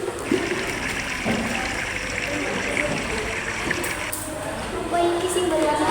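Rushing river water used as a sound effect in a high school drama of the Keong Mas legend, a steady broadband wash of flowing water with soft low rumble, continuous for the whole stretch.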